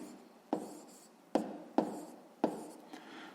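A pen writes by hand on paper during a fifth-grade maths exercise, making soft scratchy strokes broken by four or five sharp taps where the pen lands, close and quiet, with no talking.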